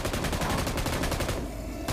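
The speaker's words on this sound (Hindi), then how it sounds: "दोबारा बरसाता हूँ फिर गोलियाँ।" Rapid automatic gunfire in a video game rattles continuously and loudly, a dense stream of shots with a brief lull before it resumes.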